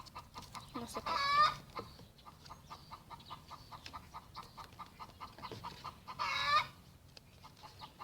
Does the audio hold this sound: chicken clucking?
yes